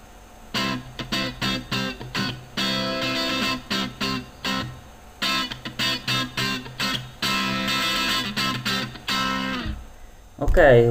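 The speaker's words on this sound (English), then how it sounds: "then I will switch on the distortion." Electric guitar sample played through a software multi-effect built in LabVIEW with distortion engaged, giving a gritty, saturated riff of repeated chopped chords and notes with brief pauses, loud and alone until a short burst at the very end.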